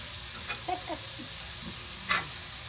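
Butter melting in a pan on the stove while cooking steak dinner, giving a faint, steady sizzle with a few small pops and a brief louder crackle near the end, heard alone.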